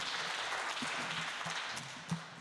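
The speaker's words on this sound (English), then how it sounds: "Give her a big round of applause." Audience applause at an Australia Day ceremony in Portland, a steady crowd clapping at moderate distance that continues evenly, with a single louder thump near the end.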